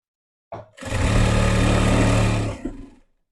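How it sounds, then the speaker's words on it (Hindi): A sewing machine runs close by in one continuous burst of about two seconds, stitching along the edge of a saree, with a brief start-up whir before and a short wind-down after. "यहाँ पर हम इसके सिलाई लगा लेंगे किनारे पर, देखिए ऐसे।"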